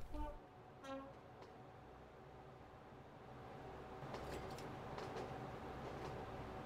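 A train runs along a line in the video game Train Fever, producing a steady low rumble that swells slightly toward the end, after a few brief tonal clicks at the start.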